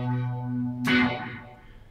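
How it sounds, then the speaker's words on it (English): A guitar signal run through a Hologram Chroma Console pedal, reverb feeding a phaser: a sustained chord swells into a bright, washy, sweeping tail that fades out gradually, with no voices. "reverb into the phaser"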